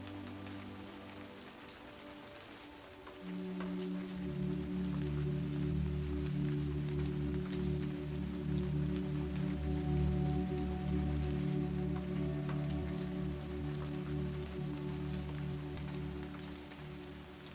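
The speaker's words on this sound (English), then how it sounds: "Heavy raindrops tap the window panes near Lily's bed." Heavy rain taps against window panes beside a bed, a dense steady patter that grows fuller after a few seconds, with a low sustained drone underneath and no voices.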